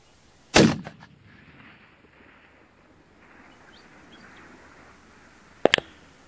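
A .300 RUM rifle fires twice outdoors during long-range shooting at over 2,700 yards: two sharp, loud cracks about five seconds apart, each trailing into a short rumble, with faint wind between them.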